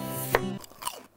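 A few knife strokes chop through a firm daikon radish on a cutting board, two distinct sharp cuts in a short quiet moment.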